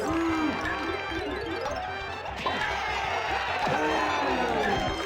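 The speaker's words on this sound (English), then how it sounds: "every successful blow from your opponent results in cheering and applause" Crowd cheering and applause in the DK64 battle arena, a continuous game-crowd roar layered with smashing hits and whooshing effects, loud and busy throughout.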